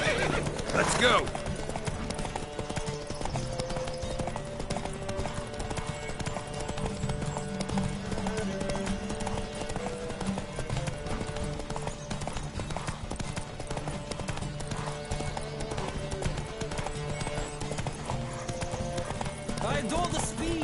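Rapid, continuous hoofbeats of galloping horses in a video game horse race, with occasional whinnies, layered under game music and voices talking throughout.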